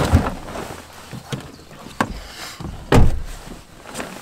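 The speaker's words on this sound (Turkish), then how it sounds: "Kapıyı kapatıyorum" A door on an SUV set up as a car camper is pulled shut, giving a few dull thumps and handling knocks with a firmer closing thud near the end, heard close up in a quiet interior.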